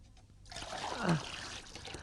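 Water is poured in a short, faint trickle that starts about halfway through, briefly swells into a gurgling splash, then thins out.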